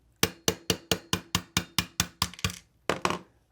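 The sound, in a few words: tapping a roll pin out with a 1/8 inch punch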